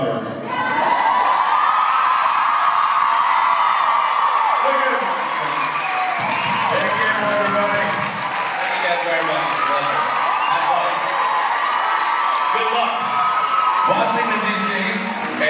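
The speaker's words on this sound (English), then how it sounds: "please applaud off the stage our youngest brother" A large convention panel audience applauds and cheers loudly and continuously, with whoops and shouts rising through the dense clapping.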